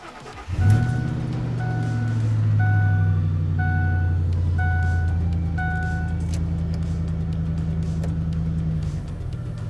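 A 2006 Ford F150 idling steadily as it is shifted into drive, with a low engine hum and a repeating chime of evenly spaced electronic beeps over the motor.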